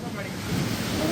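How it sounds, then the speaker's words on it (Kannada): Floodwater from heavy rain rushes like a river over city roads and into shops, giving a steady, broad roar that carries on throughout with no pause. "ರಸ್ತೆಗಳ ಮೇಲೆ ನದಿಯಂತೆ ನೀರು ಹರಿತಾ ಇದೆ"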